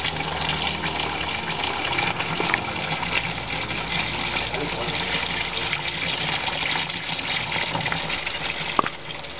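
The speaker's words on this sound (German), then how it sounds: "Der Bach durchfließt ein paar private Fischweiher." Spring-fed brook water flows in a steady, continuous rush and gurgle, close and even throughout with no voices.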